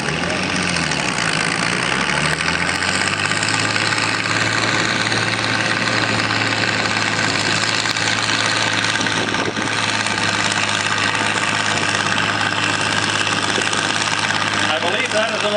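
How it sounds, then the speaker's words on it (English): An old flathead engine idles steadily at a tractor pull, a continuous loud low rumble with slight knocking texture running throughout, with crowd and announcer talk underneath. "I believe that is an old flathead engine."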